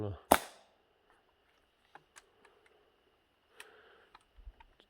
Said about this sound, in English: I heard the shot, but it didn't sound like anything came out.